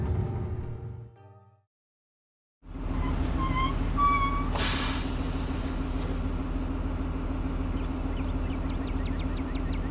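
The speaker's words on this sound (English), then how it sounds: "The bus finally comes to a stop, its brakes squealing" A bus in Scarlet Hollow comes to a stop, a low engine rumble resuming after a brief silence, a sharp hissing burst of air brakes, high squealing tones, then a steady idle.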